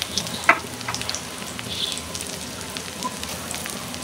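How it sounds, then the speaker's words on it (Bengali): Chopped onion frying in hot oil in a pan on a home stove, a continuous crackling sizzle with a few sharp pops early on and faint stirring, close and without talking. "তো এখানে দিয়ে দিয়েছি তেল, দিয়ে দিলাম একটু পেঁয়াজ কুচি"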